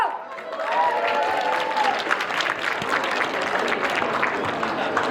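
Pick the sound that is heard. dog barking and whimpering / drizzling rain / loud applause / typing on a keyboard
loud applause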